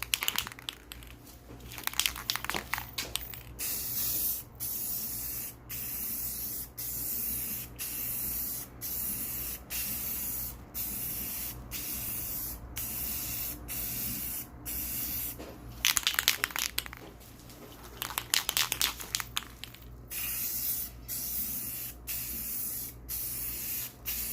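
Rustoleum spray paint applied to car wheels for a second coat, heard as repeated hissing aerosol bursts, each a few seconds long with brief pauses between them, close and steady, with no talk.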